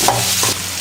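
Onions sizzle and fry in hot oil in a pan alongside chillies while preparing potato bonda filling, a steady close crackle with stirring sounds and no talk.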